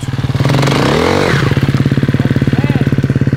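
Motocross motorcycle engine on a sand track, revving hard with a loud rising and falling whine, then settling into a rapid, pulsing, close-up throb; no speech.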